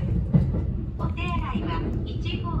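Inside a JR 271 series Haruka limited express train, a low rumble of wheels on rails runs steadily beneath someone talking.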